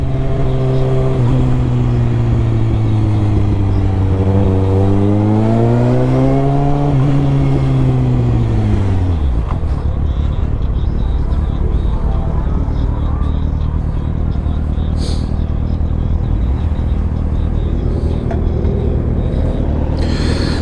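A 2020 Kawasaki Ninja ZX6R ridden on a flat tire: loud engine revs climb and fall through the gears, then give way to a constant heavy roar of wind and road noise.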